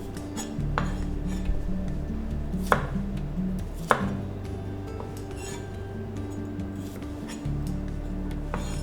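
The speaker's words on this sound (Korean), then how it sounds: "마늘은 편으로 써시면 그냥 반씩 정도만 잘라주셔도 되고요." Garlic cloves are halved with a kitchen knife on a cutting board: rapid, regular chopping taps run continuously up close, with two sharper knocks partway through and faint clinks of kitchenware behind.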